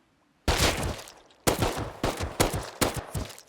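Gunfire in the video game Rust, a weapon with heavy recoil: one loud close shot, then after a pause a quicker string of four sharp blasts, each with a short decaying tail.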